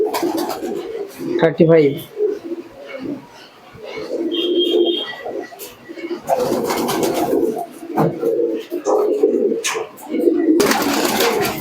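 Teddy and Moina Jack pigeons in a pen coo in repeated low, throaty bursts close by, interleaved with someone talking.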